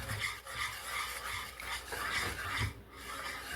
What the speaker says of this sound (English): So here I'm adding a ladle full of sugar syrup and keep whisking.